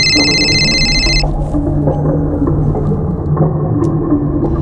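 A telephone rings with a sharp, repeated electronic trill for about a second over a loud, steady low rumble, then stops while the rumble continues.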